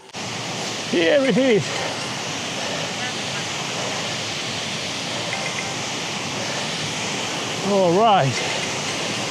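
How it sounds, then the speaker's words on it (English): Steady broadband rushing of a waterfall in Japan fills the clip, with someone speaking briefly near the start and again near the end. "There is a waterfall."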